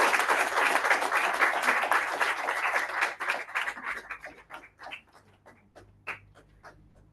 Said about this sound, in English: Give her a round of applause as she approaches us.